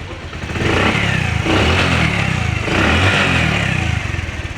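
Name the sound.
Bajaj Platina motorcycle engine started and running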